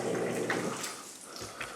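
Splendide RV clothes washer pumping out water, a steady rushing, gurgling flow heard close up that thins and quiets toward the end, with no one speaking.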